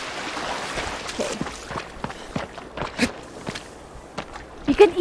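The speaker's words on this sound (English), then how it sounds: "You can even hear that his footsteps are a little bit wet. Like a squeak from his shoes" Wet, squeaky footsteps in the video game Shadow of the Colossus, a series of close, uneven steps with faint squeaks and a soft watery background, gradually getting louder toward the end.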